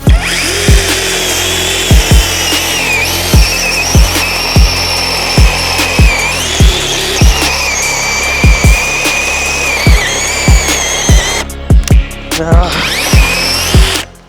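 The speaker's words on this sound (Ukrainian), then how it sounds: "Зараз перевіримо, за скільки часу маленька та велика пилка впораються з кругляком цієї ж колоди" A loud, steady cordless chainsaw whine, a Dnipro-M DCS-201BC, runs continuously cutting a log, with regular rhythmic knocks and a brief dip near the end as the cut finishes.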